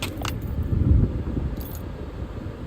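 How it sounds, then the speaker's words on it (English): License plate bolts jangle and rattle in a hand inside a Ford Edge bought at auction, a close metallic clinking over low rumbling background noise, no voices. "Oh, these are all license plate bolts."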